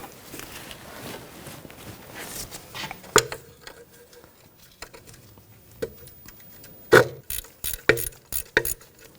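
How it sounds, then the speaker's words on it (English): A 16mm wrench turns a nut on the rear forward control arm of a 2000-2006 BMW X5, making scattered metallic clicks and ratchet-like taps that cluster more densely toward the end. "I'm going to use a 16mm wrench."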